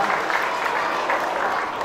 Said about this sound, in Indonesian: tepuk tangan untuk penabung yang hebat